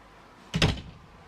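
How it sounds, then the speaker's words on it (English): A door opening indoors, a single brief thud-like bump with a short rumble, heard once at moderate loudness in an otherwise quiet room. "My door's just opening."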